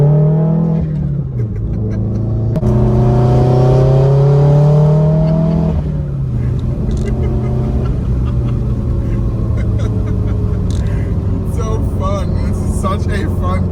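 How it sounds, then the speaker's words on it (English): A lowered Subaru WRX on air suspension accelerates through the gears, its engine note climbing and dropping with each shift in a steady loud rumble while someone talks over it. "Such a fun car, man. You know, rolling through the gears."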